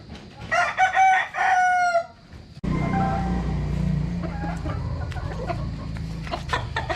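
A Boston Grey stag rooster crows loudly and close in a long harmonic call, then keeps up scattered clucks and bird noises over a rough background rumble.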